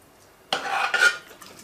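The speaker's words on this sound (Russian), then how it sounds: "Теперь я все это перемешиваю." A spoon stirring a hot bean dish with broth in a pot, giving a short burst of scraping and clinking against the pot, close and fairly quiet.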